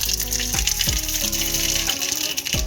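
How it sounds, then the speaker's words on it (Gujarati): Mustard seeds crackle in hot oil as the tempering for a cabbage and chilli sambharo begins, a loud, continuous frying hiss broken by several sharp pops. "તેલ મૂકી દીધું તું, રાઈ નાખી ભાઈ."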